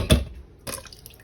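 Water poured over rice in a bowl, two short splashing bursts with a faint trickle between them, close and without talk.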